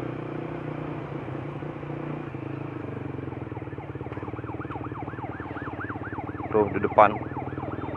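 An ambulance siren wails, rising and falling repeatedly, growing louder toward the end over a steady engine rumble, with brief speech mixed in.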